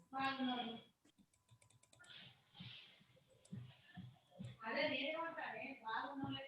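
Computer mouse clicks during a school computer lesson on editing sprites: a few quick, light clicks and taps sit in pauses between stretches of close, steady talking.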